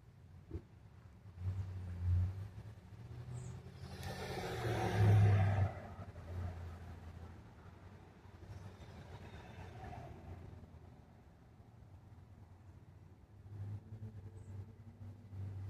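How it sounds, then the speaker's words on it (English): A car engine warms up with a low, steady idle rumble that swells briefly as if revved, then settles back to a faint, even hum in the background. "He's warming up the car."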